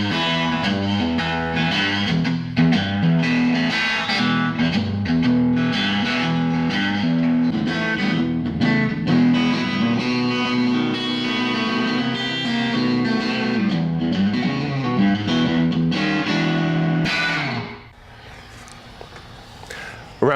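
A loud, overdriven Fender Jaguar electric guitar through a cranked Super Reverb amp plays sustained chords for most of the time, then drops to a quieter ringing tail near the end.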